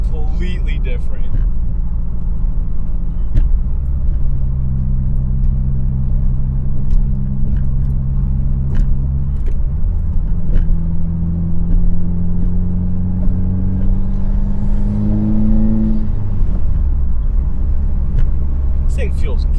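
A 2022 Subaru WRX (VB) fitted with a big turbo drives along, its steady engine drone rising in pitch through acceleration before easing off, close and continuous, with people talking over it.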